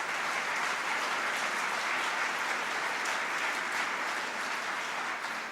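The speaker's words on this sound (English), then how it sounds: "Let's give him another round of applause." An audience at a State of the City address in Buffalo gives a steady, sustained round of applause for an athlete, a dense even wash of clapping from a large crowd with no pauses.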